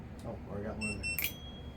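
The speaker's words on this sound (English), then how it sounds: "Excuse the beeping, that's my batteries." An RC battery charger beeps, a few faint, high electronic tones in short bursts during assembly of an FMS Futura 64mm model jet, with someone talking over them.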